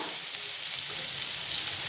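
Soybeans spread in a kadhai roasting over heat, giving a steady, even sizzle and crackle that continues close and alone without any talking.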